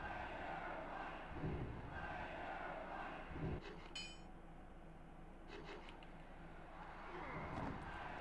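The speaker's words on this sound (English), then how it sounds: "This crowd is going berserk" Crowd roaring in the WWF Attitude wrestling video game, a constant mid-level arena din with a few swells and sharp clinks, carried under commentary.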